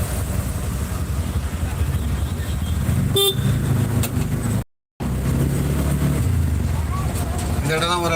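Busy street noise on a Chennai road near metro construction, with a steady rumble of engines and a brief horn toot partway through, continuing without pause apart from a short cut.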